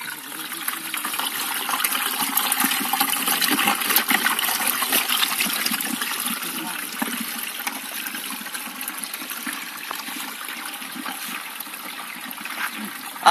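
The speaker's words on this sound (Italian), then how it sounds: "Apriamo il cassetto dove inseriamo l'acqua calda," Hot water pours from a watering can into the drawer of a pedal-powered washing machine, a steady gushing, splashing stream that runs continuously and fairly loud for the whole stretch, close by.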